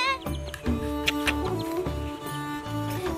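Chicks peep in a village yard, high thin calls repeating in quick bursts close by, with clucking hens and some low background voices.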